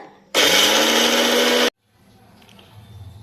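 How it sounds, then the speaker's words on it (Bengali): A kitchen mixer grinder whirs loudly as it grinds roasted spices for a mango pickle, one steady high-pitched burst lasting just over a second before it cuts off abruptly, followed by quiet room noise. "মশলাটা একটু গুঁড়ো করে নিচ্ছি ভাজা মশলাটা"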